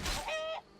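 A single short, loud cluck from a chicken in Skyrim VR, a raspy squawk with a drawn-out tonal tail that cuts off quickly.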